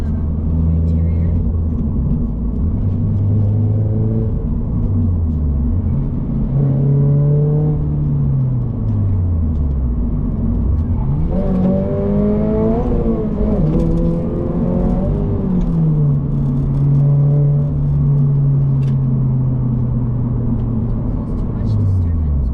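A Toyota GR86 with a manual gearbox driving from inside the cabin, its engine droning loudly and steadily with pitch rising under acceleration and dropping through crisp downshifts.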